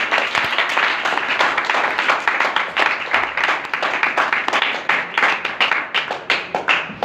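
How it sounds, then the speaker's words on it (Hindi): Loud applause from an audience at a Christian gathering, dense clapping sustained throughout with sharp individual claps standing out near the end. "एक बार फिर से जोरदार ताली"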